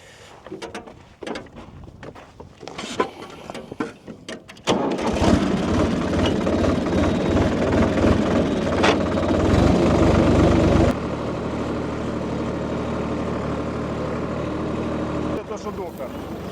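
A Solis tractor engine, a 26 hp model, runs with a steady mechanical drone that swells louder midway and settles into a constant idle-like rumble, with scattered knocks and movement noises at the start.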